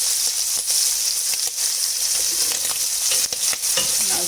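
Prawns fry in hot oil for prawn biryani, browning with a loud, continuous crackling sizzle and occasional stirring taps, close and steady with no talk.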